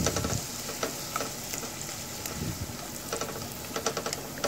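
Long-cut carrot strips sauté in a pan for Arabian bukhari rice, a crackling sizzle punctuated by repeated clicks and scrapes of a spoon stirring, close and moderately loud without speech.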